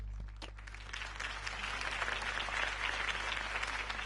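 A crowd applauds after Harvey Dent's campaign speech in the Batman Telltale video game, steady dense clapping heard from a distance for several seconds without any talk.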